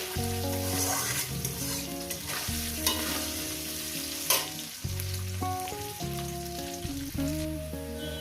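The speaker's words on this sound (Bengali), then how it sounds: "এবার এটাকে আমি চার পাঁচ মিনিট ধরে আলুটাকে ভাজবো" Potatoes frying with salt in a pan give off a steady, close sizzle and crackle that carries through the whole stretch, with occasional stirring scrapes. Clear tonal music plays underneath and no one speaks.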